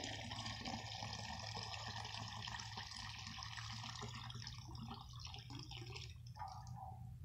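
Water runs steadily from a rain barrel spigot into a container, a continuous close hiss and splash that holds at an even level throughout with no talking.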